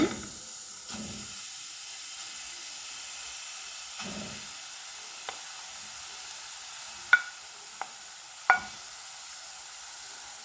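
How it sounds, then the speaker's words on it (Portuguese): Meat being sautéed in a pot over a lit stove for a Brazilian quermesse dumpling filling, a steady soft sizzle and hiss with a few stirring scrapes and clinks, close and alone. "Aqui em uma panela com meu fogo já ligado, eu vou estar adicionando a carne."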